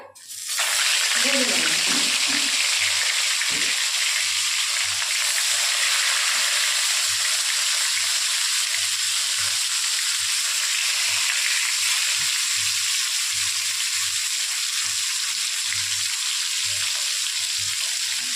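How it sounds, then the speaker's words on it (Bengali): Fish hits hot oil in a wok and sets off a loud, steady hiss of sizzling that fills the whole stretch after a brief bit of talk at the start. "তেলটা গরম হয়ে গেছে এবার মাছগুলোকে দিয়ে"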